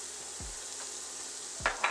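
Chopped garlic sizzles steadily in coconut oil in a frying pan on medium heat, with soft stirring scrapes and a couple of brief clinks near the end.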